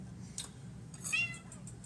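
A cat meows nearby, a short rising cry and then a longer wavering one, over a low kitchen hum while shrimp simmers in a pot.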